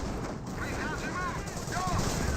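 Battle noise from the World War II strategy game Company of Heroes: steady gunfire and mortar fire, with grenadiers shooting at a 17-pounder anti-tank gun. The din is dense and continuous, and faint whistling tones drift over it.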